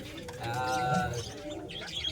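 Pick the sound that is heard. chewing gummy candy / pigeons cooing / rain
pigeons cooing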